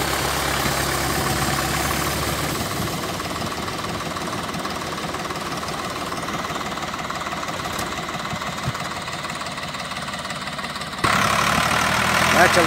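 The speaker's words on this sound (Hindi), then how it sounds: "फिर फांसा का अकेला ट्रैक्टर जोर लग रहा है" A Swaraj 735 FE tractor engine labours loudly in a steady, throbbing drone as it pulls a trolley stuck in a field. Its tone shifts and rises abruptly near the end, with faint voices under it.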